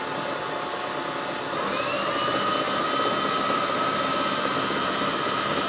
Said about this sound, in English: our controller is now speed controlling our starter motor